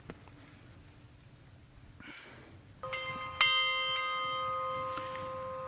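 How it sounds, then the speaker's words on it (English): A church bell rings out to call worshipers during a reenactment of medieval worship, with a few clear, resonant strikes whose tones hang and slowly decay over faint room noise. "worshipers were called to the church by the ringing of the church bell."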